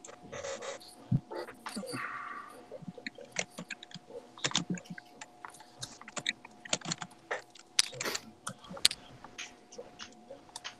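Typing on a computer keyboard, with rapid uneven key clicks and clacks heard up close and continuing the whole time, along with a soft steady background hum and some panting.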